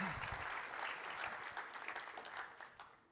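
A conference audience claps together in sustained applause to welcome a speaker at a developer event. The sound is dense and even and fades slightly toward the end.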